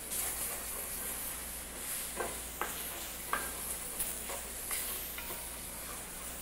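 Potatoes frying in a pan, stirred with a series of close scraping knocks spaced a second or so apart over a continuous soft sizzle.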